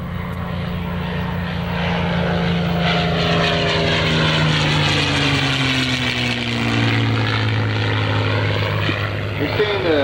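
A World War II P-51 fighter's propeller engine roaring past on a low pass at an air show, loud and continuous with a sweeping pitch shift as it flies by, with voices mixed in.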